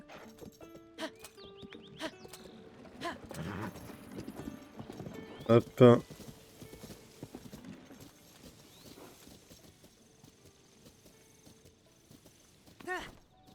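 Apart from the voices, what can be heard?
horse hooves clip-clopping in Zelda Tears of the Kingdom video game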